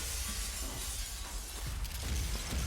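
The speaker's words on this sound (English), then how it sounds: "Alright, going with the Shattering Glass theme." Glass shatters in the Devil May Cry 2 video game, a bright continuous crashing of breaking shards over dense game sound, loud and sustained with a fresh burst near the end.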